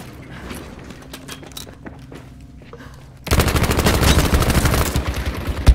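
Video-game gunfire: a quiet stretch of faint shots and movement, then a loud, sustained burst of rapid automatic fire takes over and continues to the end.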